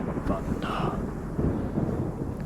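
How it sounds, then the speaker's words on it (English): A low, rolling rumble of thunder in ARMA 3 swells and fades under steady wind-like noise, with faint talk mixed in. "I like the thunder."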